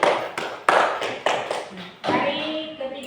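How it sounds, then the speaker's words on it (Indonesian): Classroom applause for a student group in a lesson, a burst of loud, close hand claps in uneven clusters, fading as a teacher's voice begins to speak over the end. "kita berikan tepuk tangan untuk kelompok 3"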